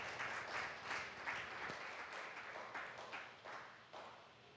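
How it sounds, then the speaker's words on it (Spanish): A congregation applauds during a church sermon, a steady wash of clapping that swells and fades across the clip, moderately distant, with no voices standing out. "Denle un aplauso al papito lindo."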